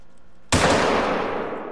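A single loud Mosin rifle shot cracks out in a hunting video game for red deer, a sharp close blast followed by a long fading echo after a quiet pause.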